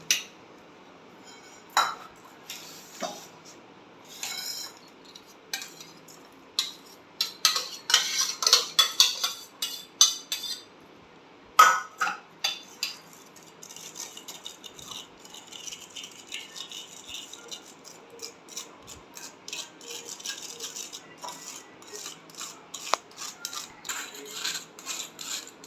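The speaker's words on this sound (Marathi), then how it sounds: "आपलं दही फेटून झालेलं आहे." Curd seasoned with a little salt and sugar is whisked through a metal strainer in a bowl, giving irregular clinks, scrapes and rattles in bursts that come close and fairly soft, with no talking.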